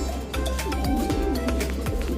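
Racing pigeons in a loft coo softly in repeated low murmurs over a steady background hum, several birds overlapping close by.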